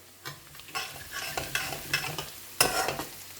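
Garlic chilli chicken sizzles and fries in a hot pan, with crackling bursts and a few sharp spikes as it is stirred, close and fairly quiet.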